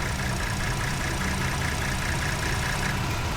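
A Ford F150 engine idling steadily and loudly up close, with a dense mechanical rumble that stays constant over a few seconds; the truck has an intermittent charging problem.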